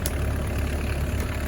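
A Kubota KX071 mini excavator's diesel engine idles just after a cold start on a winter day, giving a loud, steady, low rumble close by with no one speaking.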